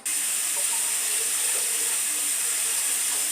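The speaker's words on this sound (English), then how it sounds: "So I'm just filling the water till it reaches" Water runs steadily from a kitchen faucet into a canning pot being filled for pickle jars, a constant bright hissing rush that lasts throughout with no voices.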